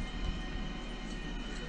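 Trains roll along in a LEGO Incredibles video game, a steady mechanical rumble with a faint whine, continuous and moderately quiet.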